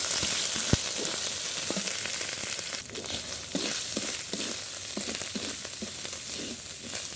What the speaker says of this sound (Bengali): এখন সব মশলা দিয়ে ভালোভাবে কষিয়ে নিব আদা রসুন বাটা চিনি দারচিনি আর লাস্ট পাতার সবজি